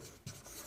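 Marker or chalk scratching briefly across a board during a trigonometry lesson, a short close rub with a firmer stroke midway, no voices.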